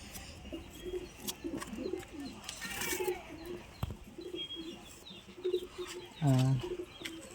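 Pigeons in a loft coo in soft, repeated low throaty calls with scattered chirps and rustling, ending in one louder close coo, over a quiet room background.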